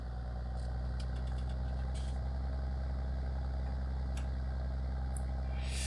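A tractor engine in Farming Simulator 19 runs at a steady, even drone throughout, a constant low rumble with no pauses and only faint incidental clicks on top.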